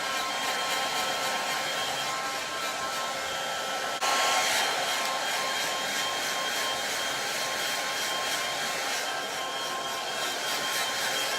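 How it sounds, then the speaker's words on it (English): A hair dryer blows steadily and loudly at close range as hair is dried upside down after a lob haircut, its broadband rush holding throughout with a brief surge in intensity partway through. "I just bend over and blow it upside down."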